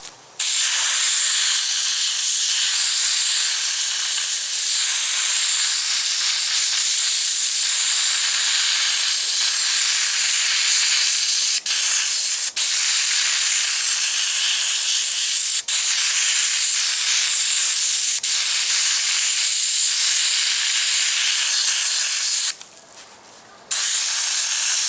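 A siphon-fed sandblasting kit sprays in one loud, continuous, harsh hiss that runs almost unbroken, with a brief drop-out near the end before resuming.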